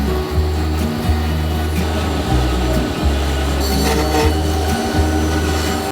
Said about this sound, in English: just take it to the bandsaw, cut it up in smaller pieces